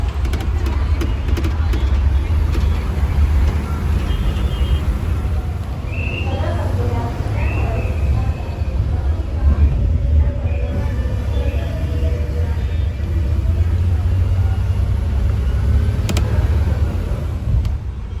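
Low engine rumble fills the cabin of a state transport bus stuck in an expressway traffic jam in a ghat section, a steady droning bed with people talking over it.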